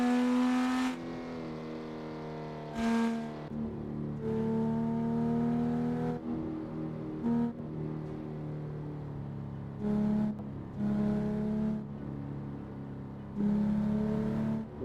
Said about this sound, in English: So here in game, as it says right here, it's the Porsche 911.